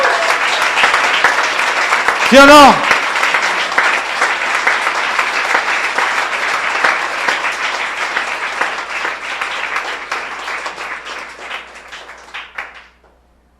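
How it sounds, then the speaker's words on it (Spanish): Church congregation breaking into loud, sustained applause that swells and then tapers away, with a brief shout from a voice near the start. "Dar un aplauso a Cristo."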